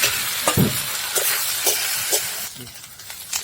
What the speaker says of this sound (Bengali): দেখুন আমার মশলা থেকে তেলটা ছেড়ে গেছে, এখন ভাজা কচুরলতি দিয়ে দিলাম।